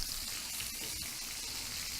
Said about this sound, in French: Nous sommes en train de saisir notre morceau de viande, c'est-à-dire le carré de veau